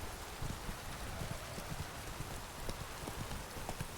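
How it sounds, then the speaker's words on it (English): Heavy rain downpour in The Witcher 3 video game, a dense continuous hiss of falling rain with horse hooves clip-clopping steadily beneath it, fairly quiet and without talk. "This downpour's a bastard"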